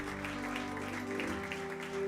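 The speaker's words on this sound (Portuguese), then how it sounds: "Você pode aplaudir bem forte o nome daquele que vive e reina para todo sempre" A church congregation applauds together in a steady, dense patter of clapping under sustained instrumental music, moderately loud and reverberant throughout.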